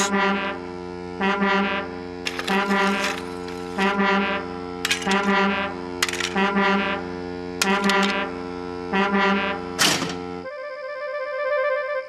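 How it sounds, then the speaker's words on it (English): A loud, deep horn blares in repeated bursts of uneven length over a steady tonal drone, then cuts off abruptly near the end, leaving a quieter hum. "It's a new invention, a railway foghorn, said Sir Topham Hatt."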